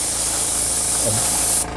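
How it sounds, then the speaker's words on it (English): An aerosol can sprays paint onto model railroad track in a loud, continuous close hiss that cuts off abruptly near the end, with a voice faintly underneath. "spray back and forth on the ties"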